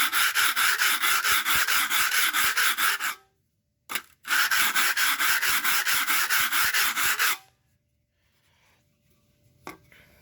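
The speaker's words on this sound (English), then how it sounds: "Little helpful hint to sharpen up your mud knife." Mud knife blade scraped flat across concrete to sharpen it, a loud, rapid run of rhythmic rasping strokes up close, then a short gap, a second long burst, and quiet with a faint click at the end.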